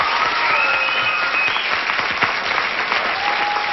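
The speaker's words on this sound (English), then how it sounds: "I just want to give these guys a nice round of applause." Loud, dense applause from a studio audience on the 1987 syndicated Card Sharks game show, steady clapping filling the whole stretch with a few faint tonal sounds behind it.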